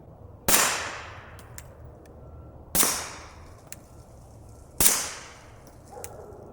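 Three suppressed gunshots from a Smith & Wesson M&P .22 pistol fitted with a Banish 22 suppressor, each a sharp crack with a short decaying tail, evenly spaced about two seconds apart, with faint clicks of the action between, no talking.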